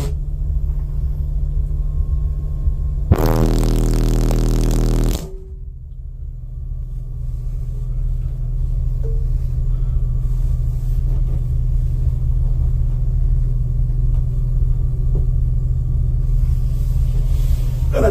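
A truck's car audio system, four Fi HC18 subwoofers powered by two BC17K amplifiers, plays a 40 Hz tone: a loud, deep, steady drone. It cuts out briefly partway through, then returns and holds until the end.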